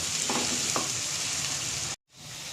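Onions for egg biryani sizzle steadily in a hot pan with a couple of stirring scrapes, then the sound cuts out briefly before the frying resumes.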